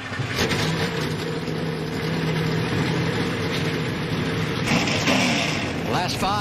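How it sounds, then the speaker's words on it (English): NASCAR Xfinity Series race car engines fire up and rumble together at Kentucky before the Shady Rays 200, a loud, continuous mass of engine noise with revs rising near the end and an announcer's voice over it. "And now, drivers, start your engines."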